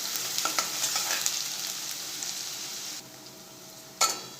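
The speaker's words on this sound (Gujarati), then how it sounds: "કાંદાને આપણે સાતરી લઈશું કાચો ગુલાબી થાય ત્યાં સુધી આપણે કાંદાને સાફરી લઈશું" Finely chopped onion sautéing in a pan for green pea sev usal, a continuous close sizzle with occasional stirring scrapes, quieting near the end before a brief stir.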